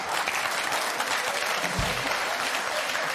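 Audience applause on a Dutch television talk show, a steady wash of clapping at moderate level with a brief low thump partway through.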